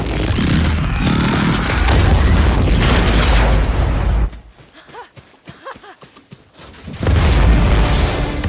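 A massive explosion from the film Dune Part 2 roars loud and sustained, then cuts abruptly to a quieter stretch with scattered tones before the heavy booming blast returns at full force.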